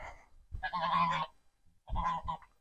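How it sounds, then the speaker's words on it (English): Geese honk loudly and close by in an orchard in two raucous bursts separated by a short pause. "sorry about the geese, they're so noisy"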